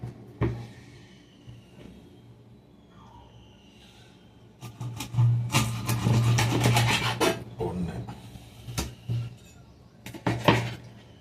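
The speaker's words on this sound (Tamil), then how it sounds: "இவனை கட் பண்ணுறது இந்த மாதிரி கத்தியில் தான் கட் பண்ண முடியும்" Knife cutting a kola fish, with rough scraping and chopping strokes that start sparse and quiet, then turn dense and loud in the middle with a few sharp knocks near the end, close up and without talk.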